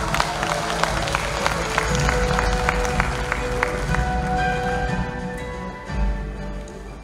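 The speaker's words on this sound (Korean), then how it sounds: "뜨거운 박수로 맞아주시기 바랍니다" Party members at a Democratic Party of Korea convention applaud a candidate's introduction, a sustained wash of clapping and crowd noise that gradually thins toward the end.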